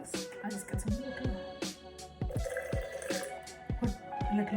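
Water runs from a tap and splashes into a container, with irregular drips and gurgling as it fills, close and fairly loud.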